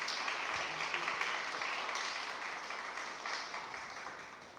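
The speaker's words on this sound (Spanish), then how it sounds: "un aplauso también" An audience claps together at a university book presentation in Mexico, the applause a dense, moderately distant patter that gradually fades.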